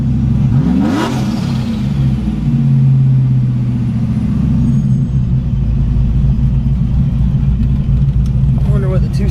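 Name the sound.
procharged Trailblazer SS engine revving, two-step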